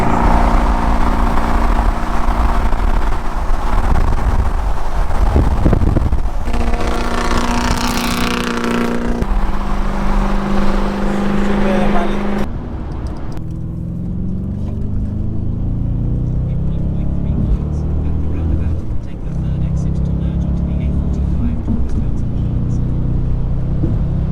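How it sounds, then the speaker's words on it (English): A V8-engined Datsun at a Japanese car show drives close by with a loud, continuous engine rumble and revving that rises and falls, then settles into a lower, steadier drone. "That's a V8, that is. V8 Datsun."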